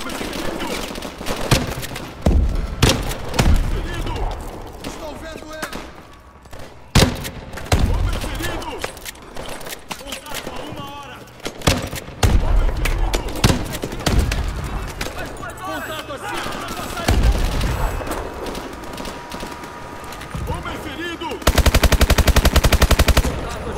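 Dense bursts of automatic machine-gun fire and single gunshots rattle through a Call of Duty: Advanced Warfare campaign battle, loud and nearly continuous, with someone talking over the shooting.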